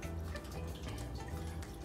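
Water draining out of a pipe on a one-week-old hydroponic system growing tomato plants, a steady low gurgling trickle running through the whole moment without any talk.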